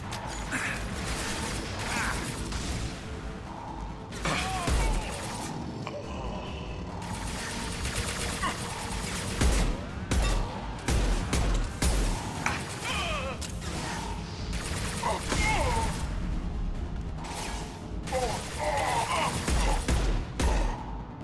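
Gunfire in the Mass Effect 2 video game, with repeated mechanical bursts and crashing impacts running throughout a busy combat soundscape, loud and dense, with occasional voices over it.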